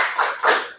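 A standing classroom group claps a rhythmic cheer in an Indonesian school, two quick bursts of hand claps close by, with no talk over them.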